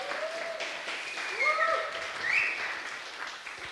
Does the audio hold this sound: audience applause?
yes